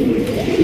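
A Chila breed pigeon gives a short, close, throaty coo, a single low rolling call that cuts off abruptly.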